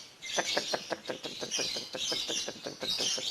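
A lovebird singing a rapid, chattering song of repeated bright chirps, fairly close and continuous with no pauses.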